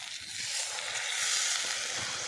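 Plain water is poured into a pan holding whole fish coated in masala and topped with coriander, cooked outdoors. A bright, steady sizzle and hiss swells slightly, close and continuous.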